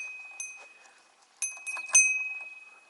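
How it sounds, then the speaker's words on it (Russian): A small bell hanging at a sacred hitching post in Yakutia rings in a few light, bright strikes, each chime fading slowly, heard alone and fairly faint. "Колокольчик вот."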